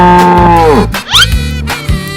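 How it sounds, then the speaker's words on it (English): Cartoon cow moo sound effect: a loud, drawn-out low moo with a falling pitch that ends in a brief rising squeal, followed by further moo-like bellows, all close and alone. "Cow."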